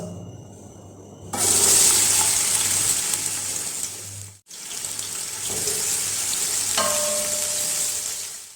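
A loud, hissing sizzle bursts up as onions hit hot oil, crackling steadily with a brief pause midway, then frying on without talk.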